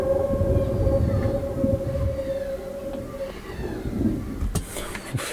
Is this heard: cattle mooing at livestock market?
no